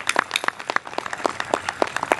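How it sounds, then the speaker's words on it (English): Scattered applause from an audience at a lecture evening, a sparse patter of separate claps close by, lasting about two seconds with no talk. "If you could please give them a round of applause."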